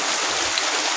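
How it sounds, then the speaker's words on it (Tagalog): Heavy rain pours down in a dense, continuous loud hiss with no pauses, and no voices are heard. "Sobrang lakas ng ulan."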